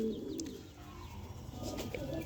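Heavy Andhra pigeons, including an ice-variety bird, kept at a pigeon sale, coo in low, throaty murmurs with a few faint chirps over a steady crowded background hum, no talking heard.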